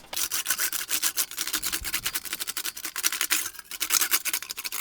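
An aluminium panel is worked back and forth through a metal-shaping wheel, giving a steady rhythmic rasping roll with regular passes, fairly close and without talk.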